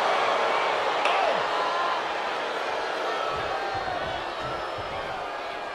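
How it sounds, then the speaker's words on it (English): A capacity crowd roars steadily at a wrestling match in the video game WWE 2K22, a dense continuous cheer that stays loud throughout with faint thuds and shouts mixed in. "With every move you make, you hear this capacity crowd following you on that journey."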